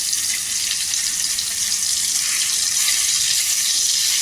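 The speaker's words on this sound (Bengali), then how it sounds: "একটুখানি টমেটোটাকে ভালো করে করে নেবো, নাড়ি চাড়িয়ে।" Tomato frying in a pan on a gas stove, a steady loud hissing sizzle that runs throughout, close and even, with faint scraping from stirring and no talk.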